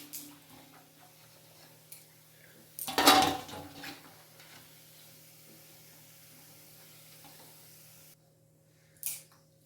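Crisp coconut bhoori, fried sweet Telugu festival fritters, set onto a plate with one short clatter of utensil against dish near the start, then a quiet faint background and a small tap near the end.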